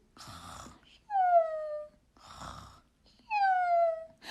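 A voice imitates snoring: two slow cycles of a breathy, rasping inhale each followed by a drawn-out whistling exhale.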